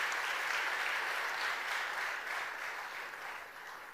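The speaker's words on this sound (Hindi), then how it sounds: "तालियों से स्वागत करेंगे जागृति जी का" An audience applauds steadily at a live event in Bhopal honouring selected UPSC students, greeting a speaker with dense, sustained clapping that fades slightly toward the end.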